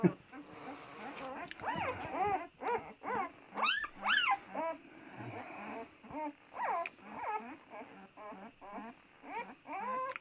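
Shepherd-dog puppies yip, whine and growl in a rapid, playful jumble of high-pitched barks and whimpers, close by and fairly loud.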